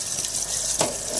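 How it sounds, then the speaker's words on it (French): Running water from a tap splashes steadily over the cap of a Tineco S5 floor washer, a continuous close hiss with a brief louder gush near the end. "Je vais rincer maintenant le capuchon."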